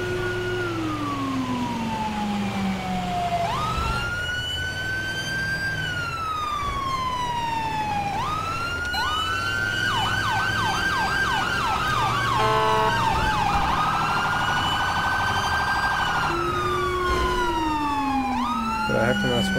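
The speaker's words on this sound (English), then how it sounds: "I am really enjoying this ambulance." In the GTA 5 video game, an ambulance siren wails and yelps in rising and falling sweeps, switching between patterns. It sounds steady and close over a low vehicle rumble.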